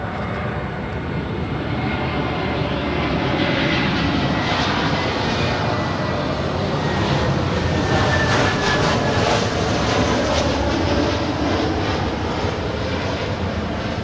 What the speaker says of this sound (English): It's Delta 1177 on an A321neo, delivered in March of this year, coming from Minneapolis.